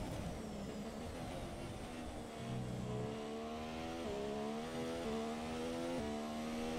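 F1 race car engine in the F1 2017 game at the Austria circuit, revving hard and short shifting around 10,000 RPM, with a steady loud tone stepping through repeated quick upshifts and no talking.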